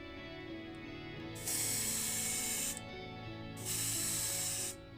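Airbrush spraying Tamiya X1 black gloss, thinned with X28, in a light first coat over a Matchbox 1979 Chevrolet Corvette die-cast body: two sustained hissing bursts of about a second each, separated by a pause, over steady background music.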